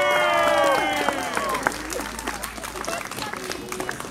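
At a live street performance show, an audience claps in scattered, fairly thin applause that gradually tapers, with a performer's voice and a few cheers heard over it.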